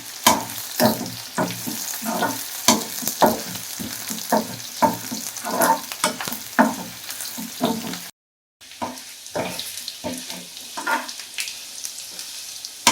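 Dried red chillies fry in hot oil for a Sankara fish curry, crackling and sizzling steadily with a rapid run of stirring scrapes, briefly cutting out before the sizzle resumes more quietly.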